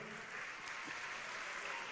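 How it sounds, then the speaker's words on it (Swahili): An audience at a church gathering applauds, and steady clapping fills the whole stretch at moderate distance without a break. "Tumpigie makofi."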